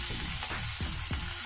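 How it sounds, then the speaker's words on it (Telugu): Green chilli pieces frying in a pan, with a loud constant hiss of hot oil and a few soft bubbling pops close up, heard alone without talk. "పచ్చిమిర్చి ముక్కలు కొంచెం వేయించుకోవాలండి, 1 నిమిషం పాటు"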